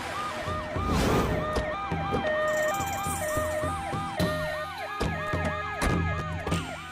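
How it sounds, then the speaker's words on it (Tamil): An ambulance siren in a Tamil suspense film wails in a loud, steady, repeating rise-and-fall pattern that dominates throughout, with no talking. "பாடி எடுத்துட்டு போறதுக்கு ஆம்புலன்ஸ் வந்துட்டு இருக்கு"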